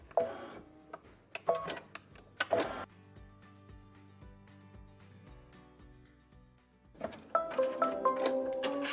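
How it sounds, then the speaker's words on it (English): Embroidery machine stitching a placement line through light mesh cutaway stabilizer in a hoop: busy rhythmic mechanical clatter in bursts with quieter steady running between, close and fairly faint. "stitch my placement line for the batting"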